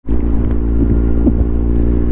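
A Kawasaki Z750R motorcycle exhaust starts abruptly and holds a deep, even idle rumble close up, with small mechanical ticks and no voices.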